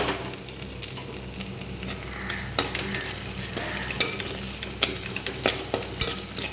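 Dried red chilies fry in hot oil for a tomato chutney, giving a steady low sizzle with scattered stirring clicks and scrapes. The pan sits close and no one talks.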